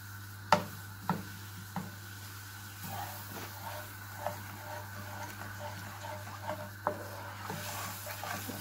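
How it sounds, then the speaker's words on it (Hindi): Butter and milk being stirred together in a pan for gulab jamun, heard as soft, quiet scraping and occasional light taps of a spoon against the pan over a steady low hum. "इसके साथ ही हम दूध ऐड कर देंगे। इन्हें डालकर हमने अच्छी तरह से मिक्स कर लेना है।"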